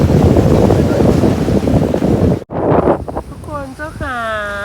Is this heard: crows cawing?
no